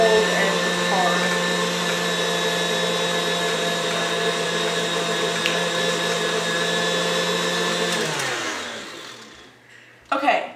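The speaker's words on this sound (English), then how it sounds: "Mix it on high so it really gets all together." An electric hand mixer whirs on high speed beating cold, hard cream cheese, a steady loud motor whine that winds down and stops near the end, followed by a brief clatter.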